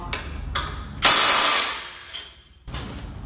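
Quick clicking ratchet bursts while undoing differential nuts on a Ford Falcon EF, with a longer rasping spin in the middle, close and fairly loud, with no talking.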